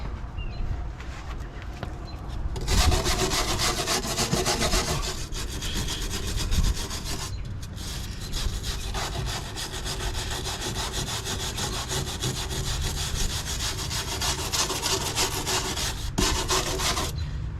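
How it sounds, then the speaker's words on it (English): A 60 grit flap wheel on a grinder scours rust off rusty Duramax truck rocker panels, a loud continuous rasping grind with brief pauses and shifts in pressure, close by and with no talk. "I just took my flapper wheel, 60 grit, went across, got all the loose stuff."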